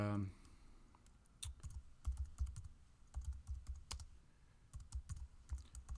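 A project name being typed on a computer keyboard in the Wick Editor: quiet, close clacking keystrokes in short irregular bursts with brief pauses between them.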